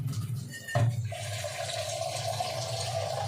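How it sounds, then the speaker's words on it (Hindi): Water runs steadily from a household tap being turned on to heat water, a soft continuous stream with a brief splash near the start, heard close and alone. "पानी गर्म करने के लिए मैं पानी ऑन करके गर्म करती हूँ।"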